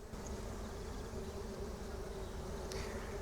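Stingless bees buzz steadily and close by around wax honey pots in a meliponary hive, a continuous drone that carries on without pause.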